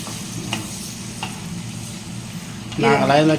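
Chicken liver being stirred with chili powder in a pan for a liver fry, a steady sizzle with faint scrapes, swelling into louder frying near the end.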